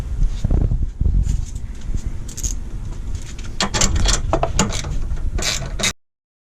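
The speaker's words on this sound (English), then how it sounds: "Alright, now I can tighten them all down." A hand ratchet tightens bolts while a starter motor is refitted on a 2005 Toyota Camry with the 2AZ-FE engine. Loud, close, rapid clicking runs almost continuously, with denser bursts in the second half, then stops abruptly.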